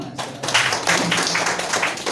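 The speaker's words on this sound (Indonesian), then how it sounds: "Tepuk tangan dulu." An Indonesian audience at a therapy promotion gathering claps on cue. The clapping is a dense, fairly loud patter of many hands that keeps steady for about two seconds, with no talk over it.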